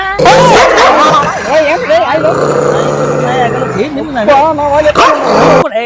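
A dog barks and yelps up close, loud and insistent, mixed with whining, while people talk over it.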